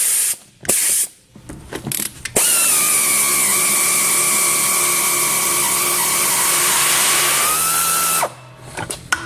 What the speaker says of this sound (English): And now we're going to strip the bead.